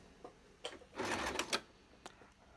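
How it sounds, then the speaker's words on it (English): A sewing machine straight-stitches the top edge of fabric for an accordion-style project. It runs in short whirring bursts, with a louder stretch in the middle, close by and without voices. "we're going to stitch this top edge together. Just straight stitch."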